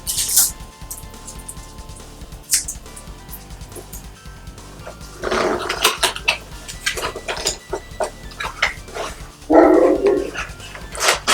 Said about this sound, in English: Dogs are barking again.